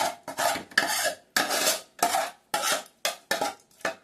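Fish pieces for a special fish fry are mixed into gravy in a pan: about ten close, sharp bursts of utensil scraping and clattering come in a quick, uneven rhythm, with brief silences between.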